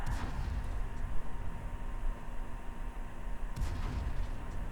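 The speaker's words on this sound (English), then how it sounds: "The AT-8 continues shooting completely ineffectually." Heavy game tank guns from an AT-8 boom in a rumbling, continuous battle din, with a sharp shot standing out near the end, loud and without talk.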